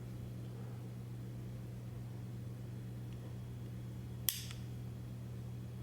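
An Archon Type B pistol's trigger is squeezed until it breaks, giving one crisp, faint click against a low steady room hum, with silence before and after.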